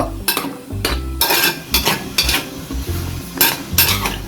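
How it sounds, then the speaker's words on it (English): A utensil scrapes and knocks repeatedly against a nearly empty skim milk bottle in a kitchen, irregular bursts of scraping and clinking close by, loud and without talk. "So I'm scraping my bottle."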